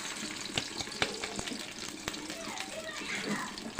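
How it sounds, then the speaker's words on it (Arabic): Rice frying in hot oil in a pan, reused from frying orzo, a soft continuous sizzle with scattered small pops and crackles, close but fairly quiet. "برضه معانا نفس الزيت اللي حمرنا فيه لسان العصفور اهو، هنحمر فيه الرز برضه."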